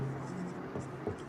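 Pen or chalk writing out a chemistry definition in a class lesson, a short faint scratching stroke heard beneath background hum.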